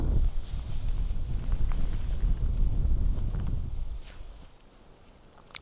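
Strong wind sweeps across an open rocky archipelago campsite, a steady low roaring rumble buffeting the microphone for several seconds before easing off near the end, with no voices.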